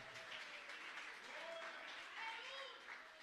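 Congregation applauding at a church service, a soft, distant wash of clapping with voices and faint tones threaded through it.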